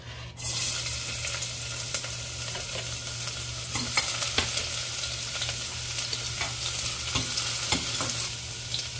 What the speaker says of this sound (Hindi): सबसे पहले हम डालेंगे चॉप्ड गार्लिक